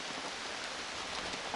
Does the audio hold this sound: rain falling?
yes